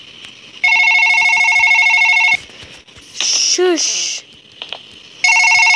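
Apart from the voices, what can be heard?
telephone ringing with an incoming call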